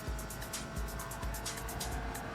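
A car cruises on auto drive in modded Need for Speed at night, its engine giving a steady low drone with faint rhythmic swishes over roughly two seconds, with no talking.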